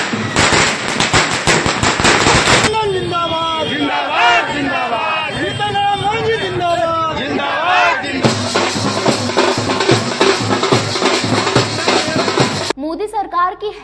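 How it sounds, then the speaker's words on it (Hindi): Firecrackers set off by BJP workers at a street celebration of an election win, loud dense crackling bursts at the start and again later, with a cheering crowd and shouting between them. "एनडीए को मिली बहुमत और नरेंद्र मोदी के तीसरी बार प्रधानमंत्री बनने पर मेयर समेत भाजपा कार्यकर्ताओं ने पटाखे फोड़े।"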